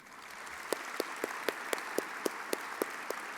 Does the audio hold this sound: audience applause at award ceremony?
yes